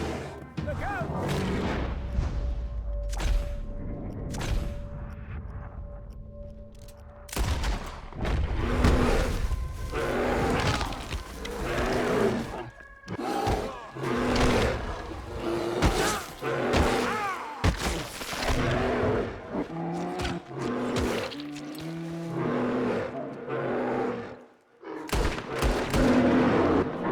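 Gunfire erupts during a chase in Red Dead Redemption 2, with loud booming shots and heavy thuds repeating in bursts. Voices shout and talk between the shots.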